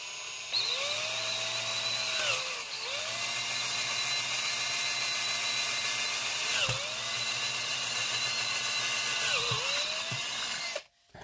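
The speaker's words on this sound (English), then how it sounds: "And now I'm going to drill a 9 millimeter, enlarge it to 9 millimeters." A power drill bores and enlarges a 9 mm hole in a PLA case, a steady high whine running loud and close for several seconds, with brief dips as the bit bites and a sharp stop at the end.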